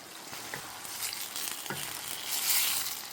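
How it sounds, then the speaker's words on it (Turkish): Green tomato stew with tomatoes sizzling and frying in a pan as it is stirred, a steady close hiss with occasional scraping stirs, louder toward the end. "Yemeğimizi karıştıralım."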